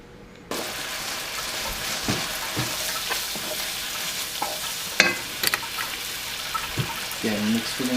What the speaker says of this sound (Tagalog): Yan, mix ko lang gulay.